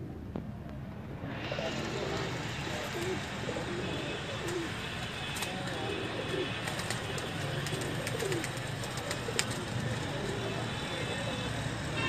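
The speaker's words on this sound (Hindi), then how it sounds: "ये दीवान साहब वाले दोस्तों बांके कबूतर" Pigeons cooing on a rooftop loft in Pakpattan, soft repeated coos over a steady outdoor hum with some chirps and passing traffic, fairly close and continuous throughout.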